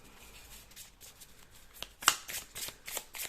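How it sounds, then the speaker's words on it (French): A deck of small tarot cards being shuffled by hand up close, quiet at first, then a run of crisp riffling and flicking bursts. "Alors, on va bien mélanger le jeu."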